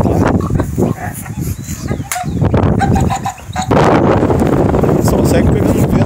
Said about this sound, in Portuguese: Pessoal, vai pegar um vento aí agora.